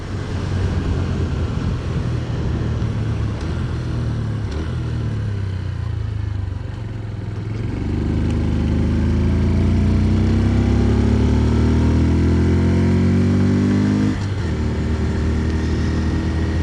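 A 2026 Honda C125 motorcycle is ridden along a bumpy country lane, its small engine droning loud and steady. The pitch sinks through the lower gears, then climbs after a gear change and drops again near the end, with wind rush throughout.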